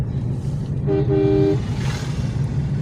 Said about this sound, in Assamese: এইটো ট্ৰেইন যাই আছে শব্দ পালোঁ